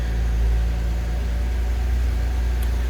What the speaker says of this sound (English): you just press and hold the start-stop button, and the engine kicks in then.